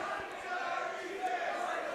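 A wrestling crowd cheers and roars at a live event, a sustained, steady wash of many voices that fills the whole moment without breaks.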